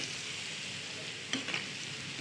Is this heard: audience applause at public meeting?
no